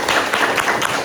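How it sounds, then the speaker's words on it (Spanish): Audience applause for author Carlos Rey at a book presentation for his novel, a steady, dense wash of clapping lasting about a second. "un fuerte aplauso para Carlos Rey"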